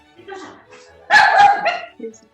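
A dog barks loudly in a short burst close by, at home during an online class, with a brief yip after and faint talk just before it.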